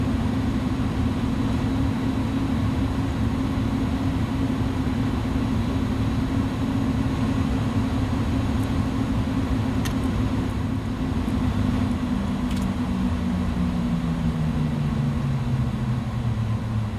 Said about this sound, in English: So APU is accelerating at the moment.